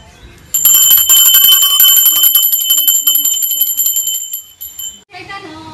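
A hand bell rung during a puja at a Raksha Bandhan family gathering, its bright metallic rings repeating rapidly for several seconds up close before stopping, with a voice speaking briefly just after.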